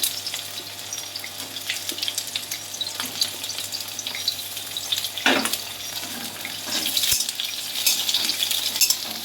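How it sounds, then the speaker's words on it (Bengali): Pointed gourd (potol) frying in a pan for a Bengali mixed-vegetable dish, a steady close sizzle with occasional stirring scrapes and a brief clatter near the middle. "এটা এখন আমি পটল ভেজে নিচ্ছি"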